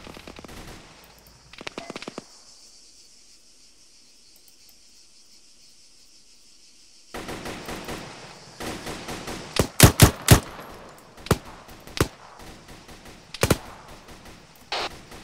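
Gunfire in an ArmA 3 firefight: quiet ambience, then from about seven seconds a burst of rifle and machine-gun fire, with several loud sharp shots cracking near in irregular succession over a steady low rumble.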